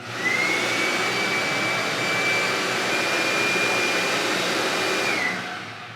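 A Ridgid 10-gallon, 6-horsepower shop vacuum runs steadily, a loud close whooshing roar with a high whine that spins up at the start and winds down at the end.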